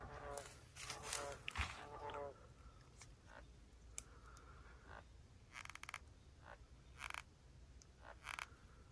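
Faint frog croaks and clicks come in scattered bursts over a quiet outdoor lakeside hiss at Cinder Lake in the Haliburton Highlands, with a brief murmur of voices early on.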